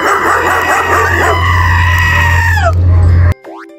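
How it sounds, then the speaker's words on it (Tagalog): A dog barks and howls loudly at close range, its drawn-out yowling calls sliding down in pitch over a steady low hum before cutting off abruptly. "Aso na naman!"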